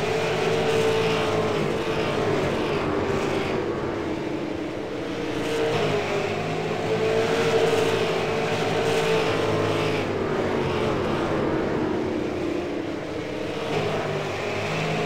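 Race cars roar out of turn 4, the engines a sustained, heavy drone that swells and eases as the pack passes, loud and continuous throughout with no voices.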